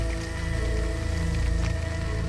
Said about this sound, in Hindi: यहाँ पे आ गई बारिश।